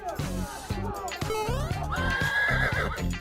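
A horse neighs loudly in a long shrill whinny, with rhythmic clip-clop and a louder beat running beneath it, as in a backing track, near and prominent throughout.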